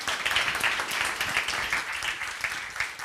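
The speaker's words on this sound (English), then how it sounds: "give a warm round of applause for Michael." Warm audience applause at a tech conference stage, a dense continuous clatter of many hands, moderately loud and sustained for a few seconds with no voices over it.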